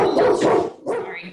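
A dog barks loudly and close, two short rough barks with a brief gap between them, heard alone.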